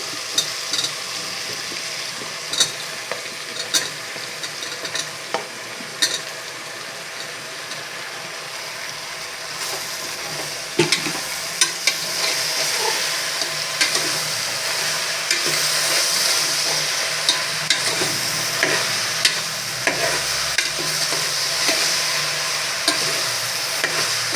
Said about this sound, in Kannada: ಮಶ್ರೂಮನ್ನು ಒಗ್ಗರಣೆಯಲ್ಲಿ ಹಾಕಿ ಸ್ವಲ್ಪ ಹುರಿದುಕೊಳ್ಳಿ